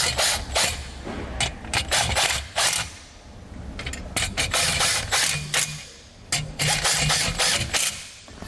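Screws on a Redarc Tow-Pro Elite trailer brake controller module are driven down under a dash panel, with repeated short whirring bursts from a power driver separated by brief pauses and faint handling clicks.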